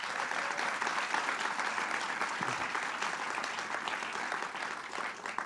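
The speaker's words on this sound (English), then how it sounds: "And let's give them a round of applause." Sustained applause from an audience at a film screening of a documentary, a dense, steady wash of many hands clapping at a moderate distance, with no talk above it.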